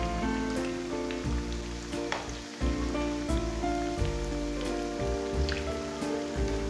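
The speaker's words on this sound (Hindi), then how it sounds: "अब शामी कबाब डाल लेंगे। इसे 2 मिनट तक फ्राई कर लेंगे मीडियम आंच पर।" Mutton shami kababs sizzle in hot oil over medium heat, a dense, steady crackling hiss that lasts throughout, with tonal background music underneath.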